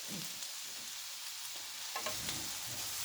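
Mixed vegetables with peppers cook in a pan for ciambotta, giving a steady soft sizzle and frying hiss with faint stirring scrapes, close and continuous.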